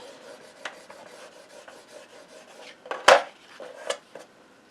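Paper being burnished down by hand while building a gift bag mini album base: soft rubbing and scraping strokes, then a sharp louder scrape near the end, close and alone.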